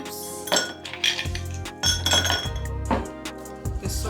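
Ice cubes dropped into a glass for a creamy cucumber drink, several bright clinks and rattling clatters in separate bursts, close and clear with short pauses between drops.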